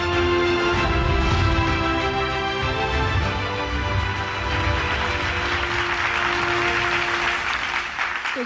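Dense, sustained applause fills a hall as an audience welcomes a speaker at a forest and tourism event, loud and continuous throughout, fading slightly near the end.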